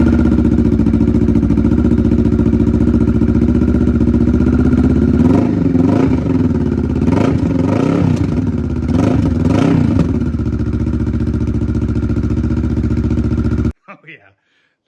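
A motorcycle engine idles loudly through a newly fitted aftermarket exhaust pipe, with a steady low drone and a few short revs in the middle, cutting off near the end; someone talks over it.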